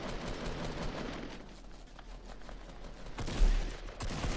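Gunshots from an opponent in the video game Fortnite, a run of quick cracking shots across the clip with a heavier thump near the end, heard without any talk.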